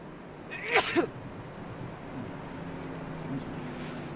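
A single sharp sneeze bursts out near the start, followed by a quiet room with faint background hum and murmur.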